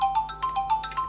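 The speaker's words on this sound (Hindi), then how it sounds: "देख मनोज का फोन आ गया" A phone ringtone for an incoming call chirps in a quick, evenly spaced run of bright electronic tones, with about eight pulses, close and clear with no talk.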